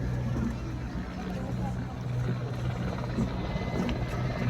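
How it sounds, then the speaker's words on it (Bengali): Continuous low rotor drone of a Bangladesh Army flag-carrying helicopter flying over an Independence Day parade, steady and fairly distant, with a faint background rumble throughout. "এরপর রয়েছে বাংলাদেশ সেনাবাহিনীর পতাকা বহনকারী হেলিকপ্টার"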